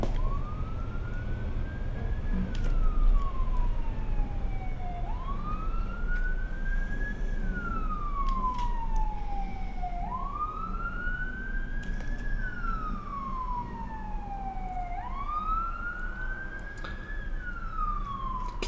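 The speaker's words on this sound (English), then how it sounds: "Can you guys hear those sirens in the background?" Sirens wail in repeating rising-and-falling sweeps, fairly distant, over steady low rumbling background noise.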